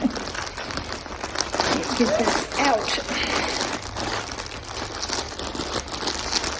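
Plastic packaging from a Temu order crinkles and crunches loudly and continuously as someone works at it with scissors, while a person speaks over the rustling.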